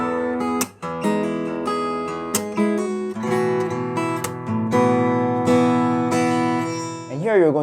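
An acoustic guitar plays a strummed rhythm from a song, with pairs of quick upstrokes falling on the beat. Chords ring out close and clear with short pauses between strums, and a brief scrape sounds at the end.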